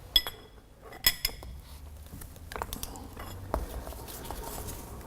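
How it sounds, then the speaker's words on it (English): Spanners and sockets clink and tap against metal while the bowl parts of an MP090 centrifuge are tightened during reassembly after cleaning. The close, sharp metallic knocks come in scattered bursts over a quiet background. "We need to lie it down and then use our spanners and sockets again."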